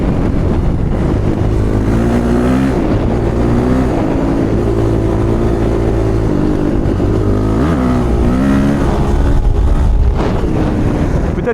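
A carbureted motorcycle engine revs loud and close, its droning pitch rising and falling continuously beneath heavy wind buffeting on the microphone.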